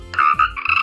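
A cartoon frog croaks in a kids' relationship game, two or three quick, bright, bouncy croaks, close and clear.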